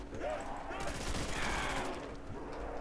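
Gunfire in the zombie game Nazi Zombiez, a rapid burst of shots cracking out in the middle of the moment, fairly faint against game ambience, with a voice speaking.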